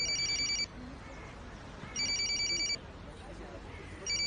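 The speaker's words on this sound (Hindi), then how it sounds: "एमिर का फोन है।" A telephone rings in repeated electronic bursts in a Turkish drama scene, about three rings with short gaps, fairly faint against a quiet room background.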